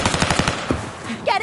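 Rapid bursts of automatic gunfire in a video game, loud and close, with a fast rattling rhythm over brief game sounds.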